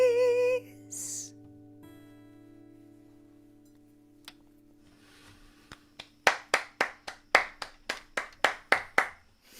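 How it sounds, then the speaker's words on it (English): Audience members clap for musicians over a video call, a short burst of about a dozen sharp, evenly spaced hand claps that start after a quiet stretch and steady hum and ring out clearly near the end. "I think we should encourage people to unmute for a second to clap and then mute again."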